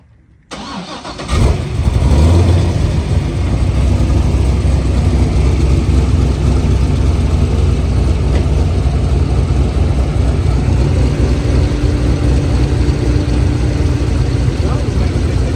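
A C6 Corvette Z06 with a cam and aftermarket exhaust fires up with a sharp burst, then settles into a loud, deep, steady idle that rumbles throughout.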